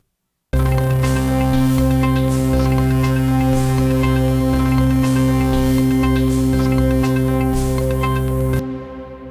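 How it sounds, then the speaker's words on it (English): A dense, sustained synthesizer chord built from one synth stacked in a hundred layers in Ableton, rich with steady harmonics and faint rhythmic ticks, playing loud and alone for about eight seconds before cutting off. "I first play you a snippet of the 100 different layers"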